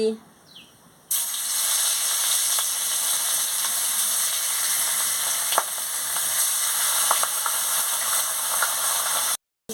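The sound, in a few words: rohu fish frying in hot oil in a wok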